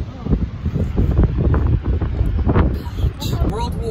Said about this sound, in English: Windy, everything,